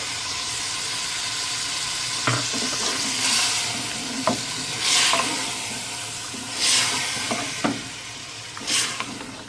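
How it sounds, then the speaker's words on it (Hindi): Beef nalli biryani mixture with yogurt is fried and stirred in a pot, giving a steady close sizzle throughout, broken by occasional clinks and scrapes of the stirring spoon. "अब इसको थोड़ी देर के लिए मैं भून के एक साथ मिक्सचर कर लूँ।"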